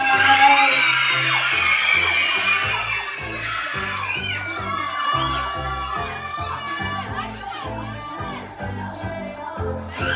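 A crowd of schoolchildren at a school costume contest shrieks and cheers loudly and steadily over a thumping musical beat.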